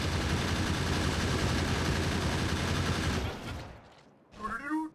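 Automated gun turrets in the factory-building game Factorio fire a dense, continuous rattling stream of shots for several seconds, then cut off abruptly, followed by someone briefly speaking.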